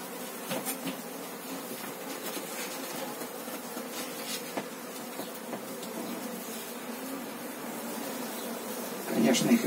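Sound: honeybees flying in to the hive

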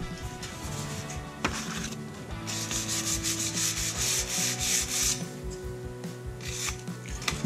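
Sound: sanding 1966 Mustang grill with coarse 220 sandpaper

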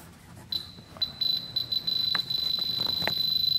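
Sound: diamond tester beeping when touching metal

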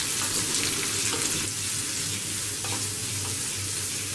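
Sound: sliced onions, ginger and garlic frying and stirred

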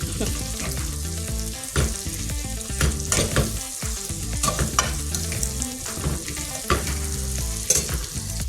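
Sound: stirring fried kudra curry ingredients in a pan

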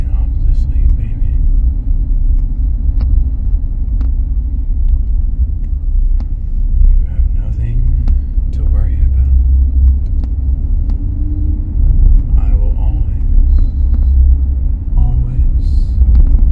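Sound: car driving, interior engine rumble

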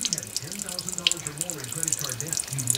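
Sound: water draining out of an Ice Castle fish house trailer frame

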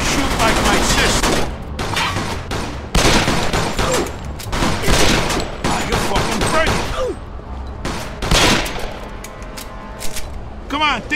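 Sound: gunfire in the video game Mafia II

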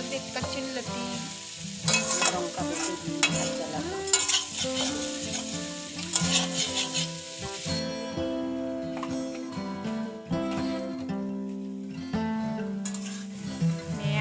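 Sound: frying taro stolons (kochu loti) in a pan

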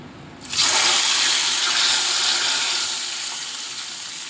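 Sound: tempering poured into dish, sizzling

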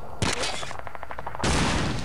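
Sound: gunfire from a captured German gun in Call of Duty 2 (video game)

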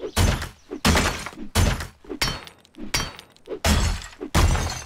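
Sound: bulletproof glass being broken in a video game

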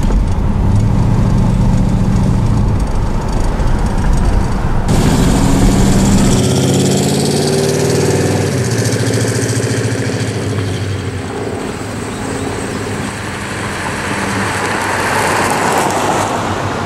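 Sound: Grand Prix car with 305 engine idling

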